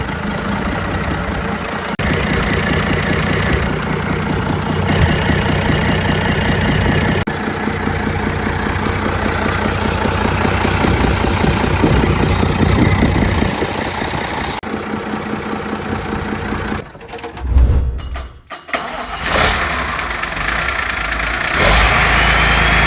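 A 6.1-liter inline-6 turbo diesel of 160 horsepower idles in a steady, close, knocking rumble, then its sound is broken up by loud clattering handling noises near the end.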